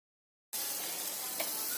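Mango pieces and salt stirred and heated in a pan for a fried-coconut mango chutney. After half a second of silence, a steady, close hiss of sizzling starts abruptly and holds with a faint scrape.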